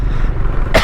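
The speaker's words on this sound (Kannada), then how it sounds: "ಕೆಮ್ಮು ಯಾಕೋ ಬಿಡ್ತಾನೆ ಇಲ್ಲ." A single short, sharp cough from a motorcycle rider on a long-distance tour, close to the mic near the end, over a steady low rumble of wind and road noise.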